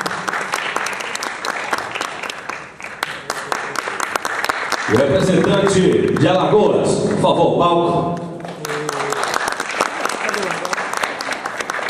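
Applause from a crowd at the opening ceremony of the 22nd North and Northeast championship in 2012, dense continuous clapping filling the hall, joined midway by someone speaking over a loudspeaker before the clapping carries on alone.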